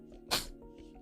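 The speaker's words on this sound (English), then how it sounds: "I'm gonna sneeze." A single short sneeze bursts out sharply, close and fairly faint, over a quiet background hum.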